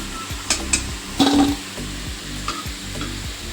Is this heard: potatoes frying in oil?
yes